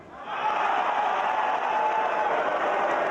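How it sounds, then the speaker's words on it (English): A WWE NXT wrestling crowd boos in a sustained, dense roar that swells in within the first half second and then holds steady throughout. "The crowd booing"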